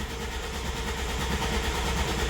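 A Ford Mustang S197 engine, freshly reinstalled after an oil pan job, turns over with a steady, fairly loud mechanical drone and low rumble that holds constant throughout.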